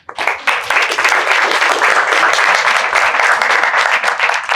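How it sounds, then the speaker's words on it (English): Loud, full audience applause at a youth entrepreneurship challenge event, many hands clapping in a dense sustained burst that starts abruptly and holds steady for several seconds. "So please applaud everyone and applaud yourself."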